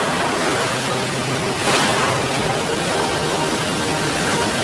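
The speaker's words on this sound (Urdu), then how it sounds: "اچانک اونچی اونچی لہریں اٹھنے لگیں" High sea waves as a sound effect: a loud, continuous roar of surf and rushing water with a swelling surge partway through, steady and close throughout.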